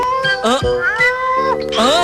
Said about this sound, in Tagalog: Natrap na pusa to eh.